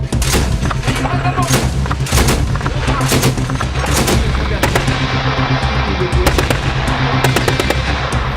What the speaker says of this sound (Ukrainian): Вибухи, стрілянина, артилерійська канонада